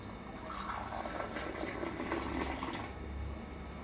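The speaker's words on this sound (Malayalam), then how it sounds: "സോ പത ഫീലിംഗ് വരണമെങ്കിൽ യു നീഡ് ടു ഈ ഒരു ആറ്റി ഒഴിക്കാൻ നമുക്ക് പറ്റണം" Homemade chai poured back and forth between vessels to build froth, a steady continuous liquid splashing and streaming that stays fairly loud and close throughout, with no talking.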